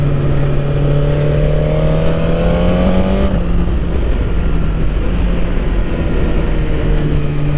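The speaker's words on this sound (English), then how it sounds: "Hopefully with the camera on the back you're getting the sound of the exhaust as well." Suzuki GSX-R1000R motorcycle with a quick shifter and auto blipper, its exhaust droning loud and continuous while riding, with a quick gear change partway through and strong wind noise throughout.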